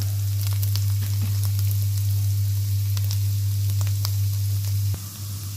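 Ginger sizzles in olive oil in a home sauté pan, a steady close frying hiss with a constant low hum underneath and occasional crackles, stopping abruptly near the end.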